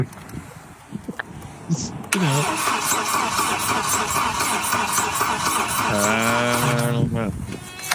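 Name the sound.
car engine cranking and turning over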